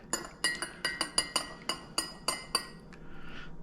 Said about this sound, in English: Stir it up a hair there.